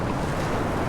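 Decent-sized ocean waves roll in on a Scottish shore as the tide goes out, a steady broad wash of surf and wind noise with no voices over it.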